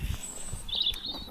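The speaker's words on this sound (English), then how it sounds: "A bit of birdsong." Birds chirp and call briefly near old allotments, a few thin tweets at moderate distance over a quiet outdoor background.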